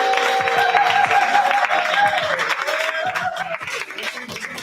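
Audience clapping at an open mic night, a dense steady patter of applause across the whole stretch that thins slightly toward the end, with a held musical tone and some voices underneath.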